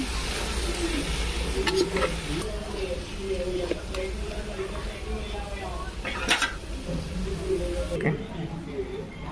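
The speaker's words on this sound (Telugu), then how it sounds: "చికెన్ వేసుకొని బాగా కలుపుకుందాం" Chicken and onions stirred in a pot for village-style chicken dum biryani, with metal spoon scrapes and clinks over a steady sizzle, close and continuous while someone talks.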